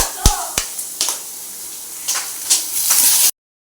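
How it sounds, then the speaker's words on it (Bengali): Pomfret fish fry in a pan with a steady, bright sizzle, punctuated by several sharp spattering pops in the first second and intermittent crackles after. "এই যে এখানে পমফ্রেট মাছগুলো ভেজে নিচ্ছি"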